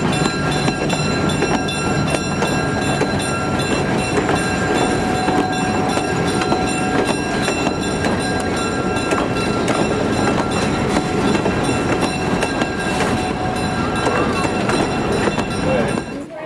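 An HO scale (1:87) model train runs continuously on its track, a loud, steady rumble and clatter with a whirring motor whine that never lets up.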